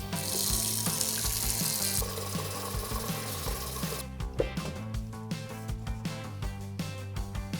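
Water running from a kitchen tap into a cooking pot, steady and fairly soft, with clinks and knocks from handling the pot during the second half.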